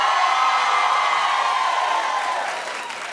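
A studio audience at a Christmas party episode of a daytime talk show cheers and applauds in a steady, loud roar that holds for a few seconds and then starts to fade.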